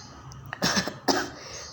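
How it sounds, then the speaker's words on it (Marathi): A person with a cold gives two short, close coughs in quick succession, fairly quiet and alone in a still room. "थोडी सर्दी खोकला आहे"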